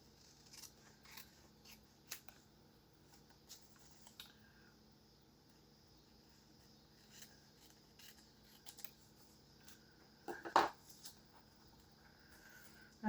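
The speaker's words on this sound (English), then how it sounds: "I'm just going to line that up and cut these with my scissors." Scissors snip paper bookmarks several times at close range, sharp little cuts spread irregularly over quiet background, with one louder snip near the end.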